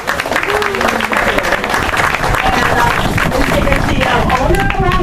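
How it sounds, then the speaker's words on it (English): A crowd gathered at a new office in Jack London Square, Oakland, gives loud, dense applause with some cheering and voices mixed in, sustained for several seconds. "let's give them a big applause"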